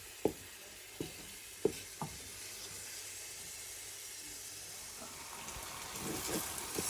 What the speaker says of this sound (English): fry my tomato just for it to have a better taste